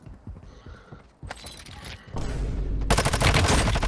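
Sniper rifle shots in Warzone Mobile, a new Season 5 sniper, crack out as a few separate loud reports, followed by a dense stretch of rapid gunfire and clatter that swells toward the end.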